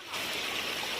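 Water from a waterfall-fed stream rushes steadily over rocks beneath a hillside at a picnic spot, a continuous broadband hiss heard close and alone after a brief quieter start.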